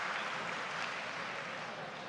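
A curling crowd in Charlottetown applauding a good shot, a steady even wash of clapping that is fairly faint and distant and lasts throughout.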